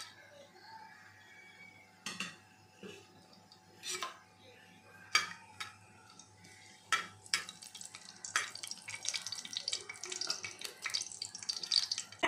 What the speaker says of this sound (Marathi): तेल गरम झालेलं आहे। याच्यामध्ये मी खडे मसाले टाकते।